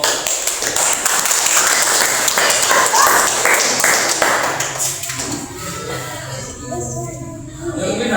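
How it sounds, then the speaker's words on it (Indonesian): A classroom of people claps together, a dense burst of applause for a student group that holds steady and then fades away toward the end. "Ya, tepuk tangan untuk kelompok."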